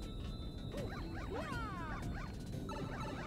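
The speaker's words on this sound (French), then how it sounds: "Petit chien. Petit chien." Small dog yipping and whimpering, several short high-pitched yelps and whines in quick succession, fairly close and quiet, over a low background noise.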